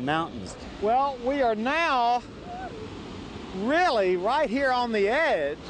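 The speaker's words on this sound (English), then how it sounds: "Imagine 100 million gallons of water a day falling 129 feet constantly." McCloud waterfall, a 129-foot drop, roars as a steady broadband rush of falling water beneath someone speaking throughout, close and constant at the edge of the falls.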